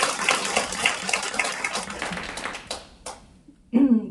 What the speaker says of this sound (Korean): 큰 박수 드릴게요.